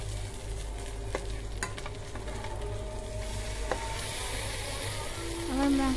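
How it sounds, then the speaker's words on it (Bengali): Pieces of rui fish fry in oil in a pan over a medium flame, giving a constant close sizzle with occasional clacks of a spatula and a brief surge of bubbling near the end. "আমার মাছটা এক সাইড ভাজা হয়ে গিয়েছে"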